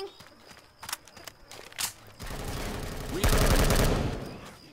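Gunfire in Left 4 Dead 2 in a swamp and shantytown area, scattered shots and clicks early on, then a dense loud burst of rapid fire, with game ambience underneath.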